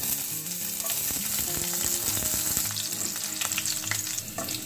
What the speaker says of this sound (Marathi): जिरा आणि मोहरी छान असं झालं की यामध्ये आपल्याला थोड्याशा लसणाच्या पाकळ्या टाकायच्या आहेत, छान अशा बारीक कट करून